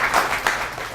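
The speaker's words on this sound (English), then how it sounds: "So a quick round of applause for Meyers and the rest of the organizers." Audience at a hackathon clapping for the organizers, a brief burst of steady, dense applause filling the room.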